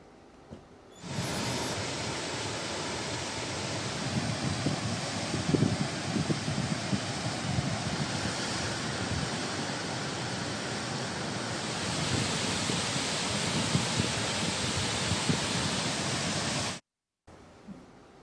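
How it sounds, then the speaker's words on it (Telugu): A swollen stream in flood after heavy rain rushes over a causeway between Kesavapuram and Nimmagudem in Mahamutharam, Jayashankar Bhupalpally, Telangana, giving a loud, continuous broadband roar that stays steady and swells midway before cutting off abruptly. "పెద్దవాగు ఉప్పొంగి కాజ్వేపై ప్రవహిస్తుండటంతో"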